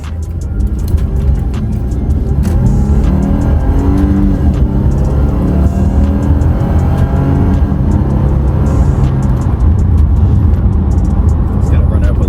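Lexus IS engine revving up and easing off, the tone rising and falling over several seconds, close and fairly loud with some background noise.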